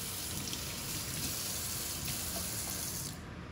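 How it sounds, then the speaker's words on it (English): Tap water runs steadily into a kitchen sink as hands are rinsed during a mustard pickle canning session, a continuous close splashing hiss that cuts off near the end. "I'm gonna rinse my hands off."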